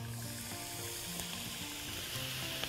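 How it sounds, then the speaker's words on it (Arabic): Mushrooms go into a hot pan with chicken and zucchini fillings, setting off a faint, steady sizzle with a few small clicks throughout. "خليني اضيف المشروم بقى دلوقتي هنا"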